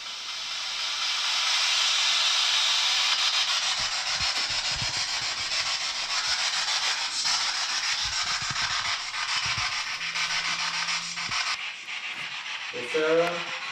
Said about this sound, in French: Ça scanne les fréquences en fait radio, puis les esprits communiquent à travers ça.